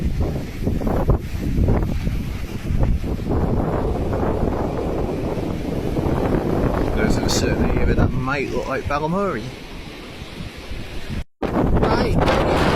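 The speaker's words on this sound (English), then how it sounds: "you can hear me because it's incredibly windy on the east side today" Strong wind on the east coast of Gibraltar near the shore, a heavy continuous buffeting roar across the microphone with surf mixed in, while someone talks through much of it.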